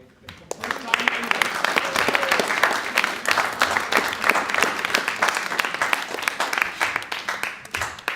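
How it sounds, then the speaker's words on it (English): At a play festival reading, an audience breaks into applause, a full, sustained patter of clapping that starts abruptly and carries on steadily, with a voice faintly under it. "Another applause for that,"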